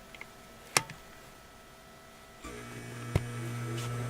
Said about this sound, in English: I have the blower on this swamp cooler